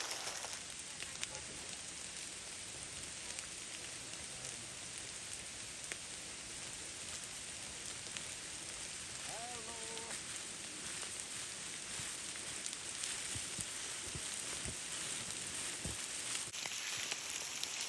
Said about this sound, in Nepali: पानी परेछ।